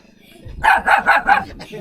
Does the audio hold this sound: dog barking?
yes